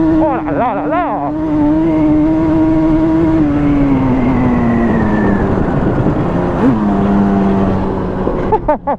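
Two-stroke engine of a Yamaha Banshee 350 quad revs hard and close, its pitch climbing, holding, then sagging before a final sharp blip, with a steady buzzing drone throughout.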